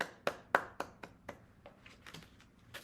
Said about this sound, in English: And I instantly started clapping.